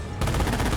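Gunfire in the World War II strategy game Company of Heroes erupts after a brief quiet moment into a dense, continuous roar of overlapping shots, loud and sustained to the end.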